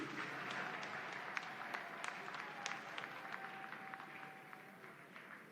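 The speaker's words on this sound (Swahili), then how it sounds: "Tumpigie makofi" Applause from a funeral gathering's audience: dense, steady clapping from many hands, fairly distant and even throughout, with a few sharper individual claps standing out.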